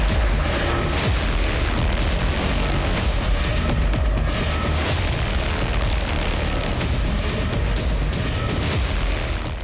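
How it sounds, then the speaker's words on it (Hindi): A Russian Iskander-M ballistic missile launches and explodes in a strike on Ukraine, heard as a loud, continuous, roaring rumble with repeated heavy booms throughout and no voices. "सबसे पहले रूस ने अपनी सबसे अचूक और विनाशकारी बैलिस्टिक मिसाइल इस्कंदर एम को दागा"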